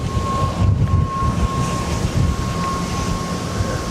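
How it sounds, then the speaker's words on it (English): Wind buffets the microphone of a camera filming airport departures at Barcelona, producing steady close, loud low rumbling and gusty buffeting throughout with no talk. "Wind just blowing the camera left, right, and centre."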